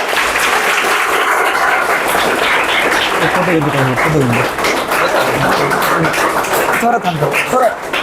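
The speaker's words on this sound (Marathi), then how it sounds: "जोरदार टाळ्या होऊ द्या" Applause at an awards event honoring a top student in a GKIO Olympiad result, sustained crowd clapping throughout with a voice speaking over it.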